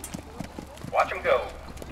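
Standardbred pacing horses at a county horse show pacing class, their hooves clip-clopping in a quick, regular rhythm close by, with voices heard over them.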